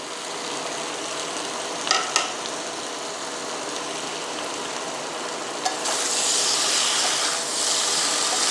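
Prawns hiss and sizzle in hot spiced oil as they are added to a jackfruit and prawn curry, a steady close frying with a few stirring clatters and a louder surge of sizzling toward the end.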